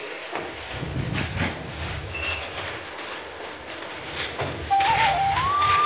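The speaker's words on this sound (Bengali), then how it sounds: "এখন ট্রেন তো চলে গেছে" A train rolling past at a rail crossing on a hot, sunny day, with a steady rumble and clatter. A wavering whistle-like tone rises near the end, and no voices are heard.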